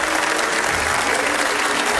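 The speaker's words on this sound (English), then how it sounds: "Round of applause for the three most spectacular people in this row." Enthusiastic audience at a televised magic show bursts into dense, sustained applause, loud and continuous from a large crowd filling the room.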